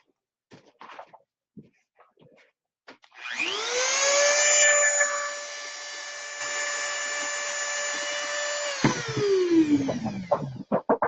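A power sander whines up to speed and runs loud and steady for several seconds, then winds down, with scattered knocks and handling noises around it.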